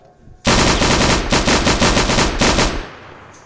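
Heavy gunfire from a big gun in the Minecraft video game, a loud sustained burst of rapid rattling shots that cuts in abruptly and runs nearly three seconds before tailing off.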